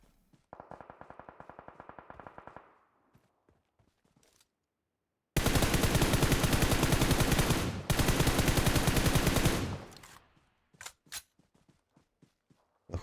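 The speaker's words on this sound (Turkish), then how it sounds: "silah sesleri gelmeye başladı" Gunfire in the mobile battle royale game PUBG Mobile, a burst of rapid automatic shots, a pause, then a longer louder stretch of sustained fire with a short break, followed by a few scattered single shots.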